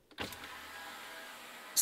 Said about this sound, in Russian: Задние стеклоподъемники электрические.